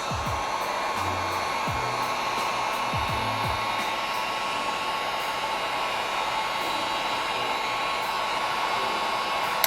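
A heat gun or hair-dryer-style blower heats the edges of vinyl wrap on a car door handle, giving a loud, steady airy roar that runs alone and unbroken from start to finish.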